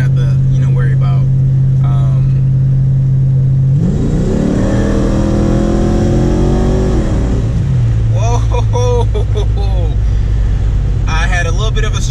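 An LS-swapped Datsun 280Z engine rises sharply from a steady drone into a hard climbing pull on a straightaway, then drops back to a lower hum, with someone talking over it.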